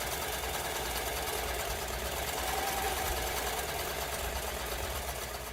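A sewing machine stitches along the side of a homemade yarn holder, giving a steady, continuous mechanical whir that holds at an even level from start to finish, with no voices.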